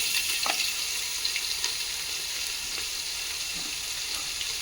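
Ginger paste fries in a pan during chicken biryani preparation, giving a steady close sizzle with a few faint scrapes and clinks, alone without voices.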